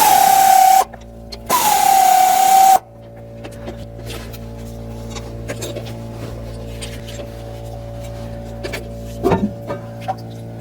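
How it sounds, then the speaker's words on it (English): A power tool whines in two short, loud bursts while removing the screws on a rear differential cover during an AFE Power-Pro Series install, then a quiet hum and a few light clinks and taps follow. "And remove these 2 final screws."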